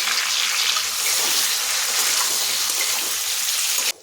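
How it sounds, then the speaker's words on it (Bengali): Onion and capsicum fry in a pan with a loud, close, continuous hissing sizzle that holds steady and then cuts off abruptly near the end. "ভাজতে ভাজতে পেঁয়াজ ক্যাপসিকামটা নরম হয়ে গেছে"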